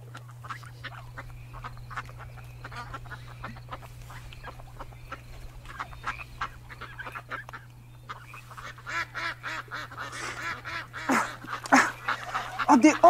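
Ducks quack and honk in a rapid scatter of calls that thickens into a denser, louder burst toward the end, with a low steady hum underneath.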